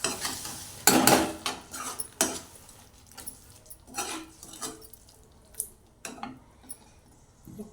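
Tamarind water is stirred into a hot pan of dried-fish karuvadu thokku, with a soft sizzle and scattered scraping and clinking of a spoon against metal.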